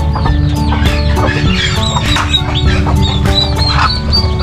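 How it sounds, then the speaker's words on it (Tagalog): A hen clucks steadily among her chicks, with many thin, high peeps from the chicks scattered over the low, continuous clucking. The whole scene is close and busy, with no voices. "mayroon pong manok na mayroong sisiw."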